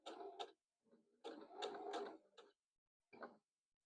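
Sewing machine back stitching at the corner of a quilt binding, with several short bursts of motor whir separated by pauses, close and fairly quiet.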